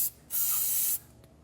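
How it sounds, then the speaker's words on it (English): Silicone lubricant sprays onto rubber exhaust isolators under a 2022 Hyundai Santa Fe during a trailer hitch install: a single close, steady hiss lasting about half a second, with no talk. "So what I like to do is spray it with some silicone lubricant."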